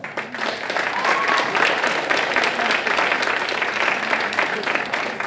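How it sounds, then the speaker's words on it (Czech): Audience applause at a local talent show in Otrokovice, dense sustained clapping from a crowd filling the hall, with a few voices mixed in underneath. "Nemusí se vám tleskat, ale může se vám tleskat."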